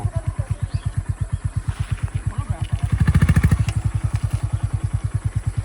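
A motorcycle engine idles steadily up close with a fast, even thumping pulse that briefly swells louder midway before settling back.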